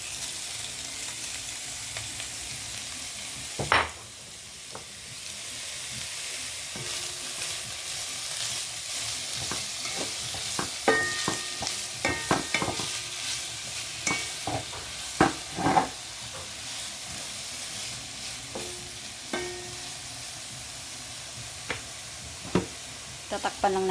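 Cut chicken pieces fry with white onions in a pan for pasta carbonara, giving a steady close sizzle with occasional scraping and stirring clinks and no talk over it.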